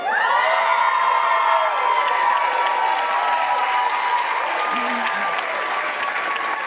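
Graduation audience at a Hebrew Union College ceremony in Los Angeles applauding and cheering, a loud, sustained wash of clapping with whoops and shouts throughout, easing only slightly toward the end.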